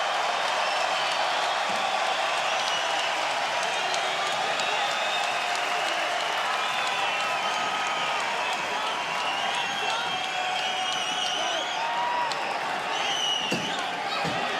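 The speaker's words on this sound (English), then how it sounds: "Crowd wants more action in these final seconds." A UFC arena crowd in Ottawa roars through the closing seconds of the Cerrone vs Iaquinta fight, a steady wash of cheering and shouting that holds loud and unbroken throughout, with no voice standing out clearly from the mass.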